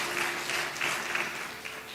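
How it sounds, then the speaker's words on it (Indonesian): A church congregation claps together during a worship service, a dense wash of applause swelling in a few uneven waves for two seconds. "Kasih tepuk tangan yang luar biasa buat Tuhan Yesus."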